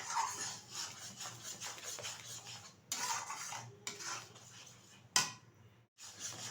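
Ripe mango paste is mixed into firni, a milk pudding, in a pot: a utensil scrapes and clinks against the pot in uneven close strokes with brief pauses and one sharper knock.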